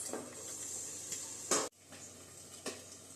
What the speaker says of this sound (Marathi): तो आपण इकडं कांदा वगैरे परतून घेऊयात